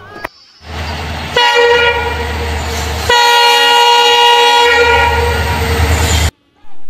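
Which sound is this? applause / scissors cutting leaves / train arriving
train arriving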